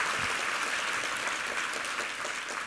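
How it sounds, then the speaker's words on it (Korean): Steady, dense applause from a church congregation during a Sunday worship service marking the church's 16th founding anniversary, sustained and evenly loud throughout with no speech over it. "우리 함께 하나님께 감사와 영광의 박수 올려드리겠습니다"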